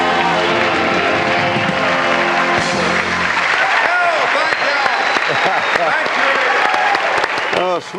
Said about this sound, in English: A smattering of applause for the song